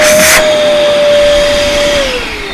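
A Dyson DC11 vacuum cleaner runs loud and close with a steady motor whine and rushing airflow, a brief burst of sharper suction noise at the start and the pitch sagging slightly near the end.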